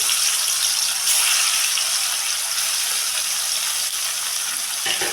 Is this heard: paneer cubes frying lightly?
yes